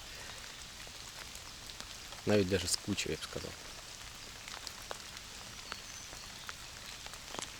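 Steady rain patters down during an evening fishing session by the water, a soft continuous hiss with someone speaking briefly partway through.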